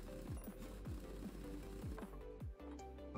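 Wheel lug nuts being removed in the video game Car Mechanic Simulator 2021: a steady whirring, ratcheting mechanical buzz with repeated downward-sweeping tool pulses, close and continuous for a few seconds.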